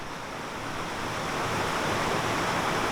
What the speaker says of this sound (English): open the gate paddles to level the water, so Anthony can cruise and sail into the lock.